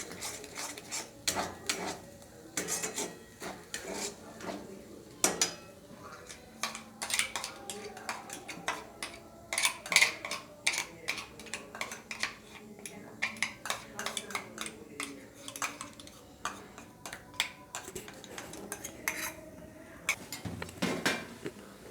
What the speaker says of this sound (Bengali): এবার যতক্ষণ জলটা না শুকায় ততক্ষণ এটা নেড়ে যেতে হবে।